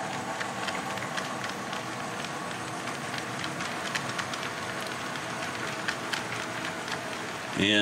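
Steady rumbling and clattering of a long train rolling past, with rhythmic clicks of car wheels over rail joints, continuous and fairly close.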